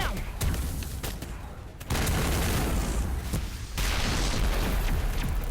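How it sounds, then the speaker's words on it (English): Explosions and heavy combat in the Mass Effect video game, a dense, continuous roar of blasts and bursts that swells loud and stays sustained, with sharp jumps in intensity partway through. "That's a lot of explosions."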